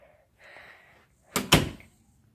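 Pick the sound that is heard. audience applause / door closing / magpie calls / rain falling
door closing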